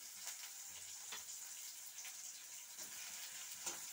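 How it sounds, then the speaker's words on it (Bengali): Chopped onion dropped into hot oil tempered with black cumin seeds, a soft steady sizzle with a few light stirring scrapes, faint and close, no voices. "এখন আমি পেঁয়াজ কুচি দিয়ে দিচ্ছি।"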